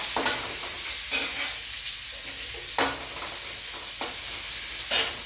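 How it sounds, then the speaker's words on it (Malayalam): Ginger, garlic and green chillies fry in a pan for a breakfast dish, a close, steady sizzle with periodic scraping stirs of a spoon every second or so, and no voices. "ഇഞ്ചിയും വെളുത്തുള്ളിയും പച്ചമുളകും കൂടിയിട്ട് ഇട്ട് കൊടുക്കാം."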